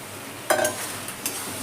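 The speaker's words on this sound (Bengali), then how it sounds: "আর মশলার সঙ্গে আলু আর ইঁচড়টাকেও কষিয়ে নেবো।" Potato and jackfruit fry in spice paste in a pan, a steady low sizzle broken by a few brief scraping stirs close by.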